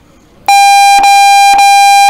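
A loud electronic end-of-game buzzer at a 5-man paintball tournament match, sounding as a sustained harsh tone with brief stutters, close and dominant over faint background.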